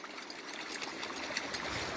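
River water flows and trickles nearby, a soft, continuous babble with small splashy bursts and no voices.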